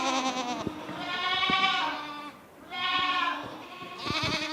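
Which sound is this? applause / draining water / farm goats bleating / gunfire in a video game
farm goats bleating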